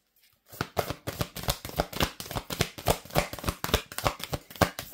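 Tarot cards being shuffled: a close, rapid series of papery riffles and slaps in an even rhythm that starts after a brief silence and continues to the end.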